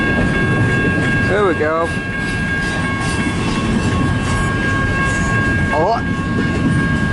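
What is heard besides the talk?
CN 533 northbound local freight train passing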